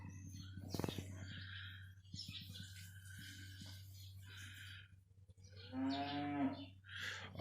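A cow lows in a barn where a newborn calf lies, one long, strong, drawn-out moo near the end over a steady electrical hum, with scattered faint thumps and small bird chirps earlier and no speech.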